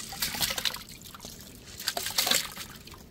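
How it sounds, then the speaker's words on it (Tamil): Moong dal poured into a pot of water set for sweet pongal, a short run of trickling, splashing water sounds with small bursts, close and alone without talk. "இப்போ வந்து பாசி பருப்பு போட்டுக்கிறோம்."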